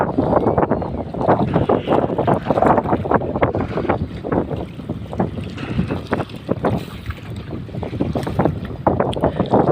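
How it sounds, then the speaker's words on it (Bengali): Strong wind buffets a boat on the Jamuna river, roaring and gusting against the microphone in loud, uneven bursts, with the churn of the boat and water beneath. "এত পরিমাণ বাতাস যা বলার মতো না"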